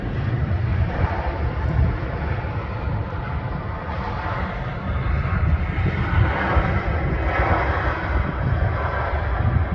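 An airliner's engines roar steadily at Manchester Airport, a broad rumbling drone heard from a viewing park with some wind buffeting the microphone.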